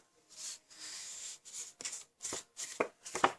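A sheet of black cardstock is folded in half by hand, giving soft paper rustles and a series of short, crisp creasing scrapes, close and quiet.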